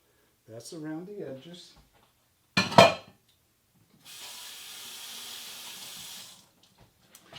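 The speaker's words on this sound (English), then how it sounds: "I don't know why I'm washing my hands every time I do something" Water runs from a kitchen tap as hands are washed while cooking, a steady, moderate hiss lasting about two seconds, preceded by a brief voice and a short clatter.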